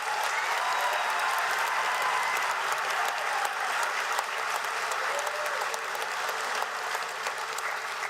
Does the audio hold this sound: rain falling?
no